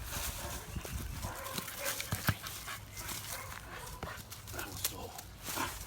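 Puppy in bitework training barking and whimpering in bursts, with a handler's voice talking and urging over the top and outdoor background noise throughout.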